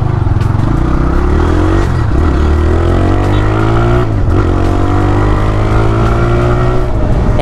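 A TVS Raider 125 motorcycle revs and accelerates close by, its engine note rising and falling loudly through repeated pulls, with a rough mechanical clatter underneath and no talking.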